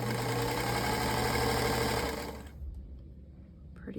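Sewing machine stitching fabric for a quilted basket, a fast steady mechanical whirring and clatter running for about two seconds before stopping abruptly, followed by quiet room tone and a faint handling noise.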